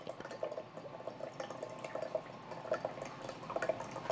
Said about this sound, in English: I'm going to add some rice vinegar again.